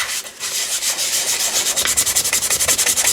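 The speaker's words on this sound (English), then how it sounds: "use sandpaper" Rhythmic scraping of sandpaper rubbed over paper to distress it, close and steady, the strokes quickening into fast regular passes toward the end.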